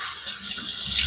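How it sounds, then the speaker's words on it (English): Cold water runs steadily from a bathroom tap for a rinse after a wet shave, a close, continuous splashing hiss with no voices. "Let me do a cold rinse."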